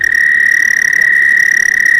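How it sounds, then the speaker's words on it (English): An Eastern American toad from northern Michigan gives a steady, loud, unbroken high-pitched trill that runs the whole time with no pause, alone and close to the microphone. "the Eastern American toad."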